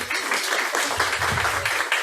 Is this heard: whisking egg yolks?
no